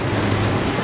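Heavy rain pours down outdoors beside a swamp as a dense, steady roar of water with no pause, loud and close.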